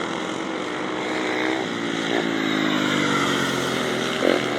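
A grasstrack racing motorcycle engine revs hard on the final lap to the checkered flag, a loud, close, rasping drone that rises and falls in pitch with brief surges.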